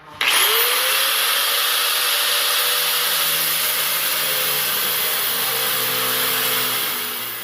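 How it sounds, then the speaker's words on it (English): A power grinder spins up and runs at a loud, steady whine while grinding a welded button off a VAS Specialties traction bar, holding constant for several seconds before easing slightly at the end. "We're going to grind that off and do the same process."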